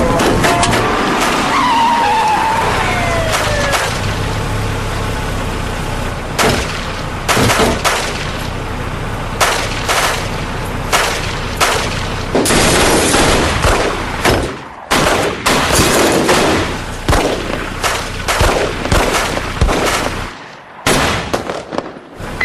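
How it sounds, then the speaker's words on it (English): Gunfire inside a school building during a mass shooting, heard as a loud, chaotic stretch of sharp cracks and bangs, some in rapid clusters, echoing through the halls with dropouts and brief quiet gaps. "Shots fired. Shots in the building."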